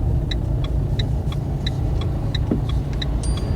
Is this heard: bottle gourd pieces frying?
no